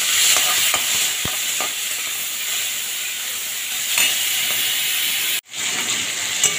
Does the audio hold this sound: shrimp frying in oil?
yes